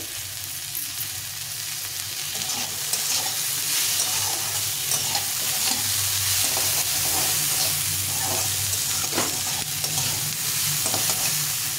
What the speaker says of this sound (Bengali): সবজিগুলো ভালো করে ভেজে নিয়ে এসেছি।